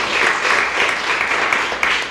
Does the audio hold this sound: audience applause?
yes